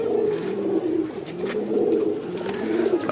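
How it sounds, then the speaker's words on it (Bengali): A female pigeon in a loft cooing, several low, rolling coos close by, steady and undisturbed by other sounds. "এই যার একটা মাদি কবুতর, এটা একটু আগে দেখানো হয়েছে।"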